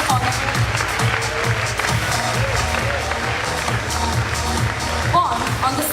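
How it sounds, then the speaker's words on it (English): An audience at a youth summit at the Scottish High International School applauds the guest of honor, giving steady clapping that stays moderately close. "Can we have a huge round of applause for Miss Mary Davis, our guest of honor?"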